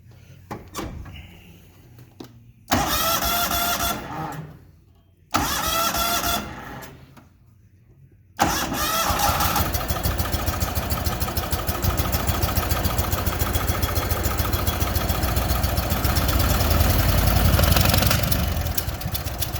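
A Walker lawnmower engine with an exhaust leak cranks and catches in short loud bursts, then settles into a steady, loud running idle with a sputtering, ticking rhythm close by.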